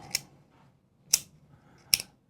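Three crisp, separate clicks of a Tacray Spinium pen, spaced about a second apart, close and quiet with near silence between them.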